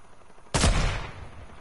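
A single sharp gunshot in a 1v1 video game match, a sudden loud crack that decays over about half a second, alone without talk.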